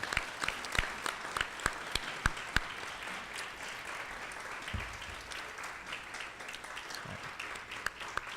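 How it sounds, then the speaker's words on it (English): A seated cohort and guests at a graduate hooding ceremony break into a round of applause, starting with several sharp, distinct claps that merge into a steady, moderately distant wash of clapping that continues to the end. "I'd actually like to ask the cohort to stand and give a round of applause to everyone who's helped us get to this point."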